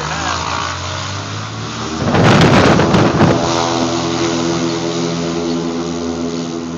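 A float-equipped bush plane's propeller engine cranks and catches at a dock, a burst of broadband roar around the start giving way to a steady, loud engine drone with strong harmonic hum that continues close by without speech.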